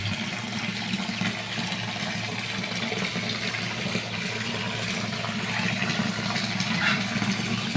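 Water rushes steadily near a waterfall, a continuous, even broadband roar with no breaks, no talking heard over it.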